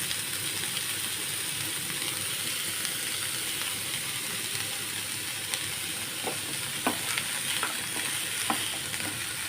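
Onions with a little salt sauté in a pan for kothu paratha, a loud steady sizzle running the whole time with sharp spatula scrapes and taps growing more frequent toward the end.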